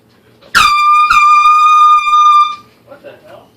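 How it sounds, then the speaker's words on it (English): An air horn rigged to a chair blares as a prank, a loud piercing blast with a brief stutter near the start, holding for about two seconds before cutting off, followed by faint voices. "Someone put an air horn on my chair?"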